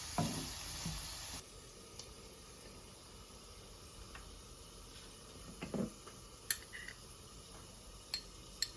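Soft, steady sizzling of chicken frying in a pan for chicken pickle, with occasional faint clicks and pops scattered throughout.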